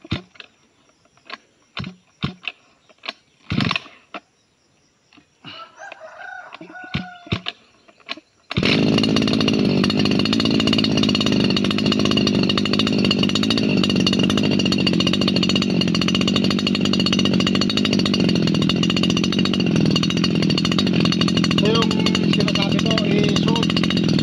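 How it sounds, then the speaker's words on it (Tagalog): After some scattered knocks and handling clatter, a small two-stroke grass cutter engine roars to life and runs loudly and steadily, close up. "Natin tong makina ng grass cutter para makapag-umpisa na ako na magtatabas."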